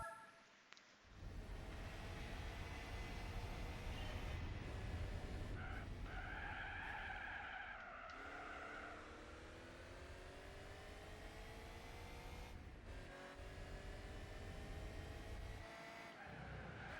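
Chrysler car engine in Gran Turismo 4, a steady buzzing drone held for the whole stretch, with pitch sweeps as gears shift and a brief tire-skid squeal near the middle, loud and continuous with no voices.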